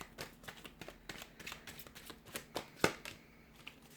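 Tarot cards are shuffled in quick, rapid riffles, a steady papery flutter with one sharper snap near the end, close and fairly quiet.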